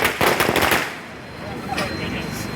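Firecrackers set off by party workers in Chavakkad town celebrating a Congress chief minister announcement: a loud, rapid string of sharp cracks near the start, then fading into a lower rumble of background noise.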